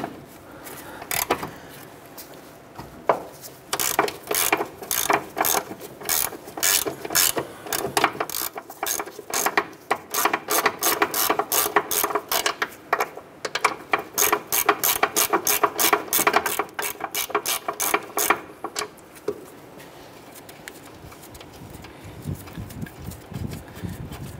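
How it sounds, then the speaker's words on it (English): A hand ratchet with a 17 mm socket turns an upper ball joint nut on a 2008-2012 Honda Accord during control arm replacement, giving long runs of rapid, close metallic clicks in bursts with short pauses. "Using a 17 millimeter socket, we're gonna go ahead and remove our upper ball joint nut."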